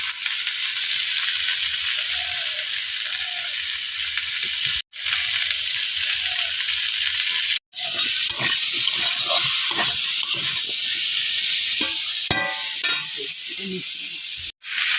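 Elephant foot yam curry fries in a pan with a steady, loud sizzle and hiss, broken by stirring and clinks of a utensil scraping and tapping the pan, with a few brief cuts in the sound.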